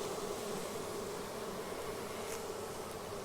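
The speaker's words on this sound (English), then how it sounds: "Look at all these bees that are still in here." Honey bees from a captured swarm hum inside a swarm box with a dense, continuous buzz that stays loud and steady throughout.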